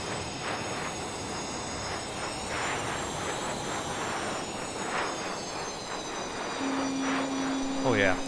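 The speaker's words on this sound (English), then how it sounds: "I love the sound of these GE engines howling" Twin GE jet engines of an FA-18F Super Hornet roar in Microsoft Flight Simulator, a sustained broad howl with a whining high tone during a low-level flight through a city, with a voice speaking over it.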